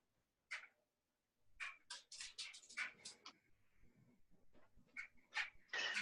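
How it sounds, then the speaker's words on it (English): A dog in the background of a remote meeting gives repeated sharp barks and yips in irregular bursts, fairly faint and distant, with short whimpers between them. "I have a dog barking in the background"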